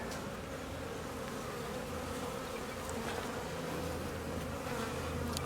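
Honeybees crowd a hive frame during a farm colony installation, giving off a dense, steady buzz that holds close and loud without a break for the whole stretch.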